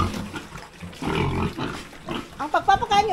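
Fattening pigs grunt and squeal up close while being fed in a piggery. Overlapping animal noises build toward the end, and a voice may be mixed in.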